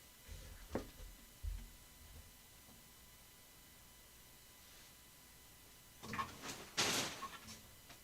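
A front door closing, with two soft thumps early on and a louder burst of rattling and a latch clunk near the end, heard fairly close in a quiet room.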